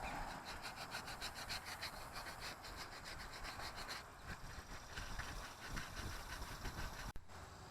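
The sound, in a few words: lightly sanding cured epoxy on wheel with 180 grit sandpaper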